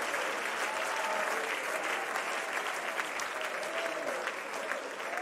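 A church congregation claps its hands in steady, dense applause that runs the full five seconds at an even level, heard from within the room.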